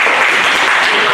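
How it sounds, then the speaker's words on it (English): An audience at a zero waste symposium applauds, a dense, loud, continuous burst of clapping from a crowd with no gaps. "another round of applause,"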